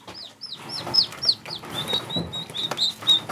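High, rapid chirping peeps from young turkeys, repeating steadily and close by with no talking.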